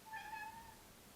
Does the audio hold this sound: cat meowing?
yes